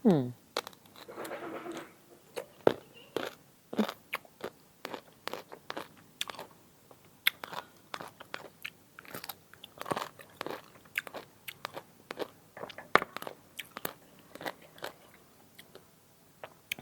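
Someone bites and chews salt-pickled green mango, producing a string of crisp, close crunches in irregular rhythm, with some talking between bites.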